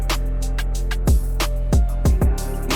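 A song mix plays through a beat bus in a music production session, with pounding low kick drums, bass and layered instrumental parts in a steady rhythmic pattern, loud and full, with no talking.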